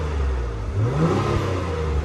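Acura TLX Type S V6 engine idling in normal mode with a short rev rising and falling near the middle, a close, steady mechanical hum under the rising pitch.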